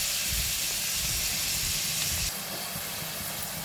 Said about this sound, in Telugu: అదే ఆయిల్లో ఆనియన్స్ ఇవన్నీ వేసుకుంటున్నానండి ఫ్రైకి